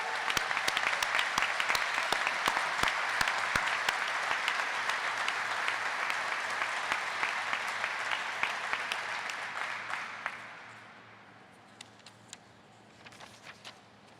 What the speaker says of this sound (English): How about a big round of applause for the whole Fall River team?